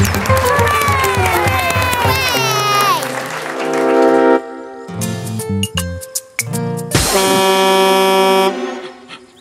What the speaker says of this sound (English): Let's all clap for Pocoyo the puppeteer